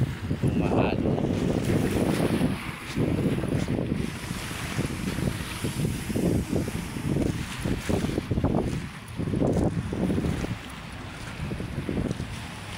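Wind buffets the microphone over rough, choppy water on Manila Bay, a steady loud roar with surging waves and gusts, no talk.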